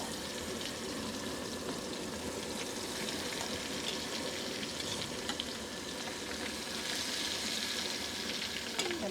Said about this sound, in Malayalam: നമ്മൾ അതിലേക്ക് മീൻ വറക്കാൻ പോവാം